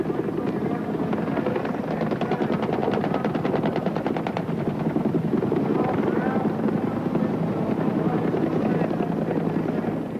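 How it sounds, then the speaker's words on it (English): Iroquois military helicopters flying in at an air show, their loud rapid rotor thumping continuous and close, with a voice talking over the clatter. "Iroquois flutter in from nowhere, complete with SAS assault teams."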